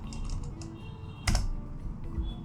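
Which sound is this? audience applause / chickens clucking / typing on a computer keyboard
typing on a computer keyboard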